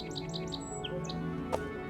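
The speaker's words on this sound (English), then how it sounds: "There's a song sparrow." A song sparrow sings a quick run of bright chirps and trills, moderately near over a soft outdoor background hum, with a short sharp sound near the end.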